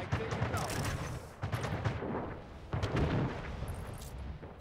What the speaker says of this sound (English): All right, let's fire our cannons.